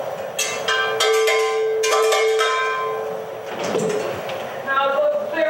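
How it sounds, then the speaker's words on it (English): A doorbell rings out several times in quick succession, bright metallic tones with a ringing decay, followed by a softer clatter and a voice. "Mole, would you like the pleasure of ringing the doorbell?"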